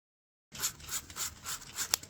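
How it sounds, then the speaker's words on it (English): Wood epoxy is smoothed and blended flat on stairs, making soft rhythmic rubbing and scraping strokes, close and moderately quiet, with a small sharp tick near the end. "I'm just smoothing everything over, blending all the surfaces in nice and flat"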